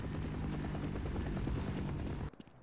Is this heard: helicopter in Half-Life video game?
yes